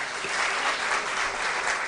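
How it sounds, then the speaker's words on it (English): Steady, dense applause from a quiz show audience rewarding the contestants at the end of a round, a continuous even clatter of many hands clapping with no talk over it. "A big round of applause for our contestants."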